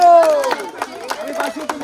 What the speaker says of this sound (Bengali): গৌরের জন্য একটা তালি হবে তো